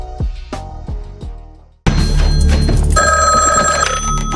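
A telephone bell rings loudly and close, rising abruptly to a sustained, bright metallic trill that follows a few soft, low resonant knocks.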